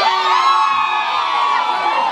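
A loud crowd at the Maxim Lounge cheers and shouts together, a sustained roar of voices and whoops filling the space.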